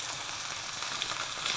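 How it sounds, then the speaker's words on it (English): Meat with its skin on sizzles steadily in a hot pan, a close, even crackle and hiss that stays constant throughout with no talking. "Now you can see slowly all the meat is getting cooked."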